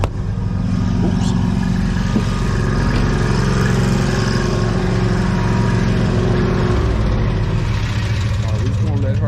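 A lawn mower engine idles loud and close, a steady rumbling chug that holds nearly unchanged for the whole stretch, with a slight shift in tone near the end.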